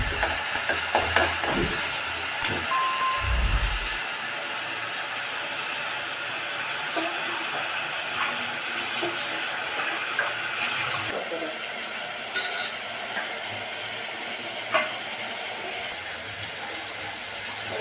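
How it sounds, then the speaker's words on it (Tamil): Sundakkai chutney ingredients sauté in a pan with a dense, continuous sizzling hiss and a few scraping knocks at the start, close and steady with no pause. "ஒரு மூணு நிமிஷத்துக்கு நல்லா வதங்கட்டும்"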